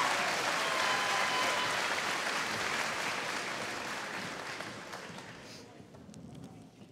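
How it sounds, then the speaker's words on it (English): Applause for a graduating class at the Coláiste Chiaráin 2023 graduation ceremony. A large hall crowd claps loudly and evenly before the sound gradually thins and fades away near the end. "Once again, a huge, huge round of applause for Class Kavanagh"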